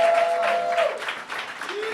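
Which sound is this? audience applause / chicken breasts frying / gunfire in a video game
audience applause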